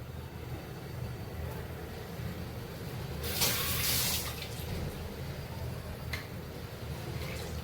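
Water is poured into a cooking pot while a vegetarian meal of dal and sambar is being made. Quiet kitchen ambience turns into a short, louder splashing gush lasting about a second, followed by a faint brief trickle.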